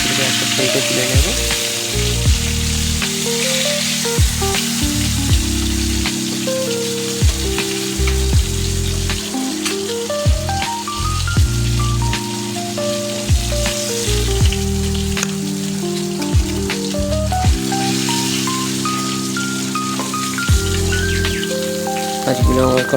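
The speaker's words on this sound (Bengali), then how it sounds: "অর্ধেক ভাজার জন্য মাছগুলোকে উল্টে পাল্টে দিচ্ছি।" Hilsa fish pieces frying in oil in a wok while being turned over, a steady bright sizzle running under continuous background music for the whole stretch.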